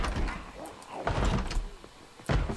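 Zombies in Project Zomboid bang heavily on a door, giving a series of dull, irregular thumps and rattles over a rumbling background, fairly loud and close.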